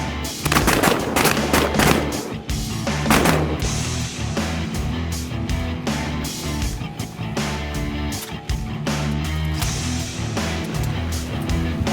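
Loud shotgun blasts crack out in a rapid volley while hunting waterfowl, several shots overlapping near the start, followed by ongoing rumbling noise.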